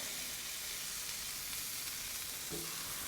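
Burger patties sizzle steadily on a Blackstone griddle, a dense, even frying hiss that holds at constant level throughout, close by and alone.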